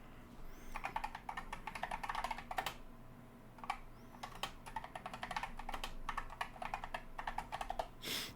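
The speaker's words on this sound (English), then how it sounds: "I hope you can hear my keyboard because it is loud" A loud computer keyboard clatters in quick bursts of close-up keystrokes, broken by brief pauses between runs of typing, with no talking.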